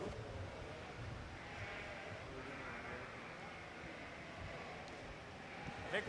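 Hampshire yearling ewes bleat in the junior breeding sheep show ring at the Ohio State Fair, their calls rising over a steady background of crowd and barn noise.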